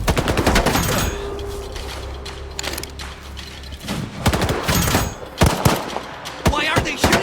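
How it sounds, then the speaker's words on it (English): Gunfire in the video game Stalker 2: Heart of Chornobyl, with rapid loud bursts of automatic shots and single cracks in clusters over a low rumble, close and sharp. "Why are they shooting at us?"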